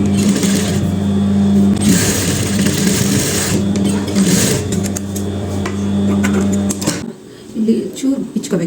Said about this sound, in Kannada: ಎರಡು ಸ್ಲೀವ್ ಹೊಲ್ಕೊತಾ ಇದ್ದೀನಿ